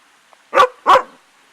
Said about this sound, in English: And that's the dog barking, Rosie.